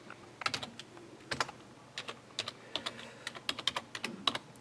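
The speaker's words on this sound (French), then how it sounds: "il faut taper les commandes que vous avez dans la doc aussi" AT commands for a GPS module typed on a computer keyboard, a close run of crisp, irregular key clicks in small bursts with short pauses between.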